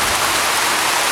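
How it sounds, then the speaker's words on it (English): Heavy afternoon downpour during Kenya's short rainy season, a dense, loud, continuous hiss of rain pounding the ground with no pauses. "And it just has these incredible rain downpours."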